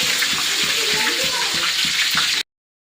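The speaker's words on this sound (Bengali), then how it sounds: "ছাঁকনির মধ্যে করে ভালো করে ধুয়ে দিলাম আর কি" Cumin seeds are washed in a strainer under running water: a loud, steady rushing stream, close by, with faint rhythmic low pulses, cutting off abruptly before the end.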